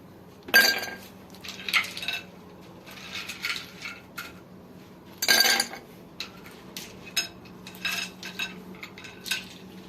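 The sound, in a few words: ice being added to a glass for iced white mocha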